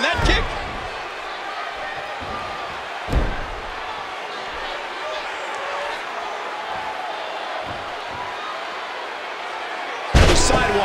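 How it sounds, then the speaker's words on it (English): A sidewalk slam lands in a wrestling video game, a sharp heavy thud cutting through constant crowd noise, with a few lesser impacts and a loud burst near the end while commentary runs over it. "Sidewalk slam, what power!"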